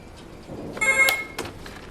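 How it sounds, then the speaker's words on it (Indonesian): A telephone rings in a prison film, one short burst of bright electronic ringing near the middle, loud and close over a quiet background with no talk. "Bos mendapat panggilan telepon"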